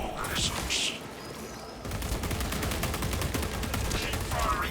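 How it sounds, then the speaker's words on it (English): Rapid sustained automatic gunfire in Warhammer 40,000: Space Marine 2 rattles steadily as a fast even stream of shots, preceded by brief voice lines and continuing under game ambience. "Keep firing until you break through the biomass."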